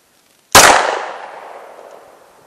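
A single sharp 9mm gunshot from a Polymer 80 pistol firing FMJ ball ammunition at an outdoor range over a chronograph, a loud crack with a long ringing decay and nothing else around it.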